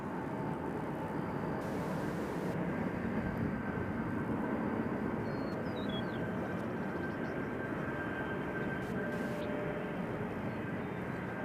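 A steady, loud roar of an airliner close by at Nashville International Airport, droning continuously through the whole stretch with a faint high whine on top and no talking.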